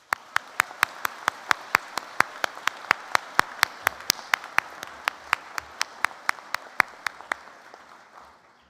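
A commencement audience at Great Bay Community College applauds to thank the faculty, staff and administration. A steady wash of crowd clapping runs under sharp, evenly spaced loud claps near the microphone, fading out at the end.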